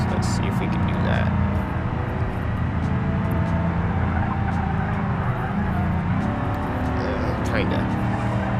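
Long car in BeamNG Drive drifting, a steady loud engine roar with tire noise running throughout, while someone talks over it.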